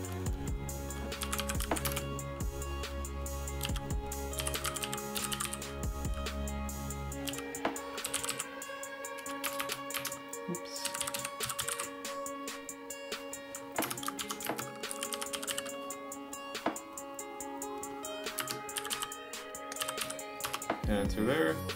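Computer keyboard typing as a command is entered in a terminal while setting up a FONA GPRS (2G) cellular module, rapid clicky keystrokes running throughout under background music and a speaking voice.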